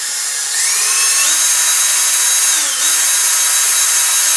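A power drill boring holes into a LOC Precision Patriot rocket body tube. The motor whines loud and close, its pitch rising as it spins up, dipping briefly under load partway through, then climbing again.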